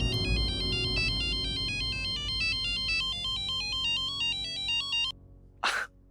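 A phone ringtone plays loudly and steadily as a call is placed, a repeating electronic melody that cuts off abruptly near the end, followed by a brief breathy noise.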